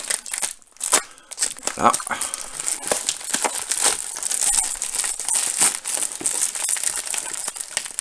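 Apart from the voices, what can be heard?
envelope from eBay US being unwrapped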